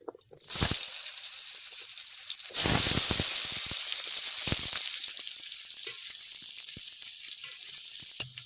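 Diced potatoes hit hot oil in a pan with a sudden loud sizzle that flares twice, then settles into a steady crackling fry.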